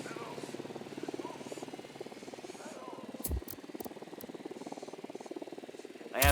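A small recon drone launched in the game Ghost Recon Wildlands hovers with a steady buzzing, whirring rotor drone, moderately close and constant, with a few brief clicks partway through.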